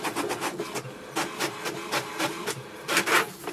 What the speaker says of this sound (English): wait for the printer to print a printer status report